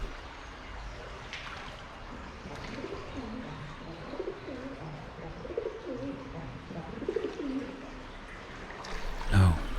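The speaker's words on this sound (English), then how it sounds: "Quiet now and see if we can see the baby pigeons." Soft pigeon coos, including baby pigeons, repeat faintly at a low pitch beside a river, over a steady trickle of water and outdoor ambience, with a louder rustle near the end.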